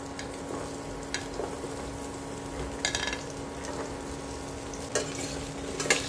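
Raw banana, drumstick, potato, flat beans, carrot, sweet potato and papaya stir-frying in a wok for Bengali shukto: steady soft sizzling with repeated scraping stirs and occasional utensil clinks, quiet and close.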